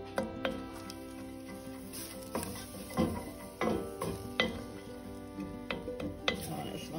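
Garlic fries in melted fat in a pot, a faint steady sizzle broken by repeated clinks and scrapes of a utensil against the pot at irregular intervals.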